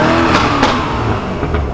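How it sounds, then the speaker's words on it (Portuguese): A 750-horsepower Porsche Panamera Turbo revs and accelerates close by, its engine loud and sustained with a gritty roar that swells and eases slightly, with no talk over it. "olha que carro louco. Panamera pesado"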